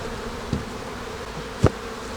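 Honey bees buzz steadily around an open beehive during an inspection, a continuous close hum with a couple of louder passes as individual bees fly near.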